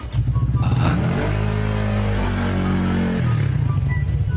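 A motorcycle engine revs close by, climbing to a sustained higher pitch for a couple of seconds before easing back to a steady idle-like drone.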